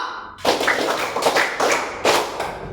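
Students in a school PE volleyball lesson clap their hands in unison, a few sharp, loud claps spaced about a second apart, each ringing briefly in an open space.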